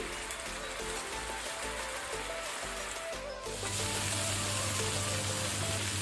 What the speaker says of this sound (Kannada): ಇದನ್ನು ನಾವು ಹೈ ಫ್ಲೇಮಲ್ಲಿ ಒಳ್ಳೆ ರೀತಿ 2 ಸೈಡು ಫ್ರೈ ಮಾಡಬೇಕು